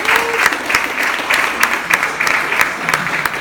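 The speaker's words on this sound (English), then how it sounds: "Give yourselves a round of applause for coming out and supporting." A gallery audience at a poetry and performance event gives a brief, lively round of applause, close and fairly loud, with scattered louder claps and a few voices mixed in.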